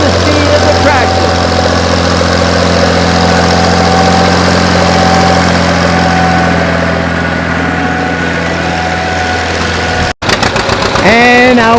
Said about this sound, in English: Adjusting the speed of the tractor.